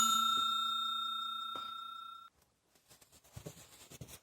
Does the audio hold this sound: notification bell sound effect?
yes